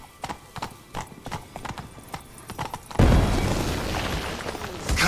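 Hooves pound in a quick, regular gallop during a horse race in The Witcher 3 video game, loud and close, before a sudden burst of dense rushing noise swamps the hoofbeats.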